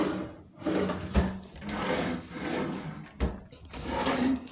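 A wooden drawer is pulled open and pushed shut during a search for an Easter basket, with several rough sliding scrapes and a couple of sharp knocks, close and fairly quiet.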